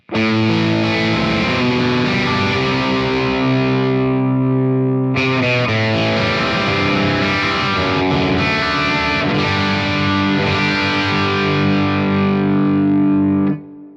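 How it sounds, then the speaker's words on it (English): Loud, distorted electric guitar on humbucker pickups through a Strymon Iridium amp-modeler pedal on its Vox-type setting, playing sustained chords and riffs with a crunchy overdriven tone, continuous and up close. "That's actually a pretty juicy overdrive sound there on the Vox type setting."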